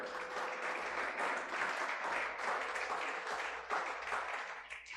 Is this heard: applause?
yes